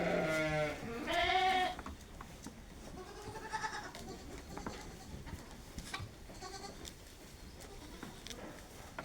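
A goat bleats close by in two loud wavering cries, followed by softer, fainter bleats and light rustling amid quiet outdoor ambience on a rainy spring day.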